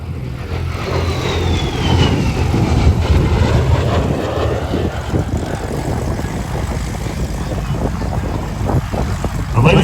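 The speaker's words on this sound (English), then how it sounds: "This is a supersonic capable aircraft." A supersonic-capable fighter jet roars past at the Wings Over Cowtown air show at NAS JRB Fort Worth: a loud, continuous engine rumble and roar lasting the whole stretch, with faint announcer talk beneath.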